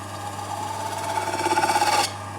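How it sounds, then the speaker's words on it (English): A lathe spins an MDF disc used as a chisel sharpening wheel, giving a steady motor whine with a faint pulsing hum that swells briefly before cutting off near the end. "Turn the lathe on."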